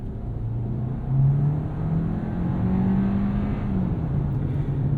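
A 2024 Hyundai Kona N-Line with a torque converter automatic pulls away smoothly, its engine note rising and holding as a steady hum under road noise from inside the cabin.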